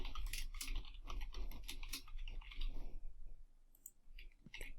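Rapid computer clicks in dense close bursts for about three seconds, then a few sparse clicks, while someone works through a podcast submission form; no voices.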